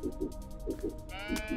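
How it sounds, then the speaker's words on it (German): In the video game Turnip Boy Commits Tax Evasion, a sheep gives repeated short bleats, a quick rhythmic run of calls over game music, with no talking. "Ein Schaf."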